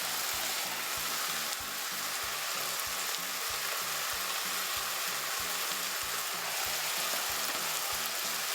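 Capsicum fries with chicken in a pan, a steady close sizzle and crackle running throughout, over a faint regular low thumping.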